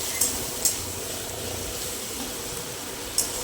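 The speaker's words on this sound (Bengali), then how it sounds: "পেঁয়াজ, আদা, টমেটো, রসুন কুচি সব একবারে বেশ সুন্দর করে ভেজে নেব" Chopped onion, ginger, tomato and garlic fry together in a pan with a steady, close sizzle, broken by a few sharp clicks from stirring.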